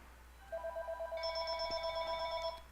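A telephone rings repeatedly in an office while a piston renovation order is being filled, its electronic bell-like tones pulsing in a steady rhythm at moderate volume, with no talking.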